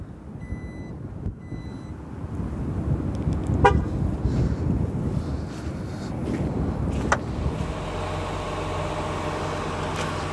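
A 2020 Jeep Grand Cherokee Altitude is remote started from its key fob: a quiet outdoor scene, a brief electronic chirp, then the engine fires and settles into a steady low idle nearby.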